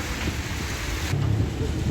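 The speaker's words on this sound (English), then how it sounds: "You might be able to hear the thunder in the background." Thunder rumbling in the distance over the bustle of Mercado Quetzalcoatl, a busy Mexican market, a low continuous roll with a hiss like rain, the rumble swelling slightly toward the end, no voices heard.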